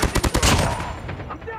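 Gunfire in a first-person shooter video game: a rapid burst of about half a dozen loud automatic shots, then dense layered game noise and distant effects fading out.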